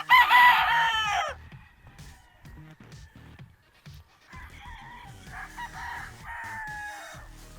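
A loud rooster crow opens, followed by softer clucking and a second, quieter crow from chickens nearby on a farm, with no talking.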